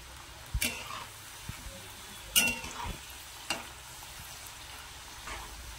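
Shankar pali frying in hot oil, a quiet, soft sizzle broken by a few sharp clinks and scrapes of a utensil turning the pieces.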